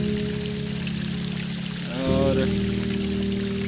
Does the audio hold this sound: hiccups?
no